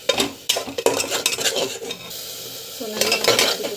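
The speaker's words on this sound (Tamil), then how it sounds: "ஸோ நல்லா வந்து வதக்கிக்கோங்க." Onion, garlic and tomato puree sautéing in oil in a cooker, with close sizzling and repeated scraping stirs of a spoon against the pot, steady and loud throughout.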